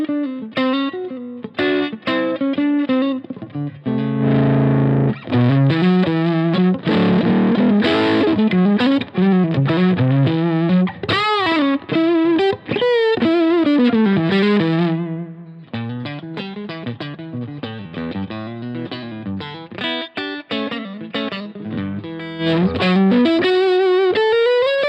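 An electric guitar runs through the lead channel of a Greg Koch signature amp, heavily distorted with effects, playing sustained bluesy rock lead lines and bends over about twenty-five seconds, loud and continuous with brief pauses.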